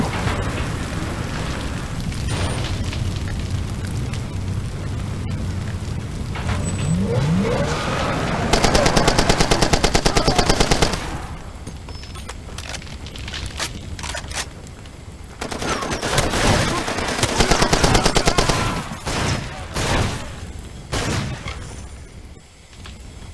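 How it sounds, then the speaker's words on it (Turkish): Bursts of rapid automatic gunfire and scattered shots rattle through a Far Cry 2 gameplay firefight, loud and close, swelling in heavy volleys before easing, with ambient rain-like noise beneath. "Nereden sıkıyorsun lan?"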